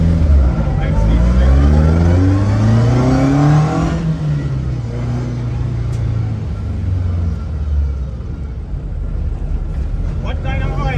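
A classic car engine with a 5-speed straight-cut gearbox revs up and winds down at a Jamaican car club meet in Hope Gardens, loud and close with wind buffeting the microphone and voices talking over it.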